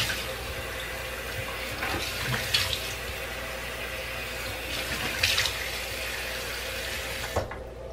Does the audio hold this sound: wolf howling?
no